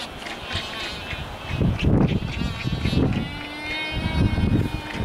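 Dense colony of albatrosses and penguins on West Point in the Falkland Islands, many overlapping bleating and braying calls near and far under steady wind, with no talk.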